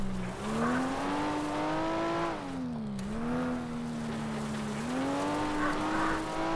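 Race car engine droning and shifting pitch in the FlatOut video game, with tire squeal rising over a steady, loud motor through the whole stretch, no talk.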